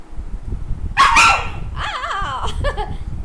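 A pet dog barks and yips up close in a couple of sharp bursts, with a whiny, rising tone and no one talking.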